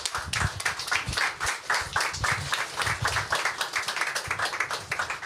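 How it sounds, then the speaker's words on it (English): Audience applause for an ambassador at a forum on Ukraine and Sweden, rhythmic, somewhat synchronized clapping close by, steady throughout. "please stand up and receive the applause"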